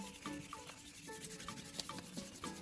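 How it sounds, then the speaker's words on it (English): A car headlight lens is wet-sanded by hand with P1000 sandpaper, giving a steady, soft rubbing scrape with rhythmic back-and-forth strokes, close up and without talk. "Now use P1000 sandpaper to sand evenly across the headlight surface."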